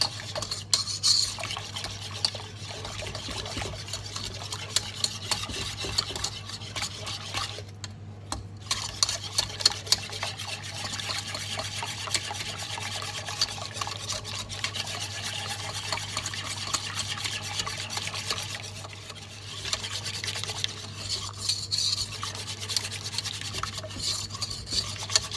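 Semolina and sugar being stirred into hot milk for a semolina tart, a continuous scraping and swirling of a utensil in a pot with occasional light metallic clinks and a low steady hum underneath.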